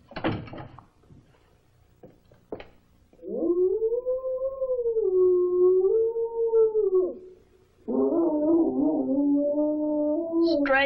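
A stray dog in the woods gives two long, close, mournful howls, each rising and sustained for several seconds, after a few brief knocks.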